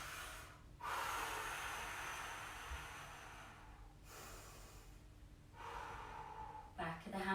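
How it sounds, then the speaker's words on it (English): Slow deep breaths during a yoga stretch, long audible inhales and exhales in several distinct cycles, close and fairly quiet, with some faint speech near the end. "Using the breath here, breathing into it."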